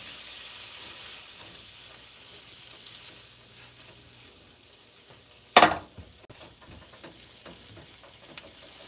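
Bread fries in butter in a pan with a steady, faint sizzling hiss, then a single sharp clatter of the pan near the end before the sizzle carries on.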